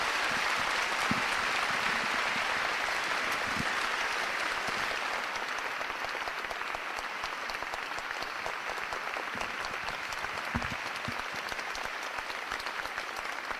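A large hall audience at Act City Hamamatsu applauds steadily after Hitori Saito's 2007 lecture, a loud, even rain of clapping that holds throughout with only slight thinning toward the end.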